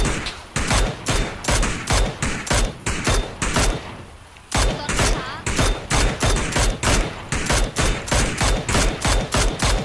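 Loud, sustained automatic gunfire in a first-person shooter, rhythmic bursts of shots close up with a short break around the middle before the firing picks up again.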